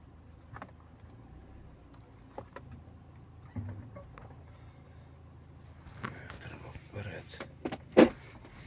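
A car shifted into reverse and eased backward: quiet low rumble with scattered clicks and mechanical thumps, a louder knock near the end, and a voice speaking over it.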